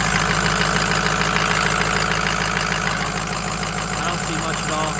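A 2004 Ford F250 two-wheel-drive pickup with a 6.0 diesel and 221,000 miles idles steadily with a dense, continuous rattling drone, close and loud throughout, with no pauses.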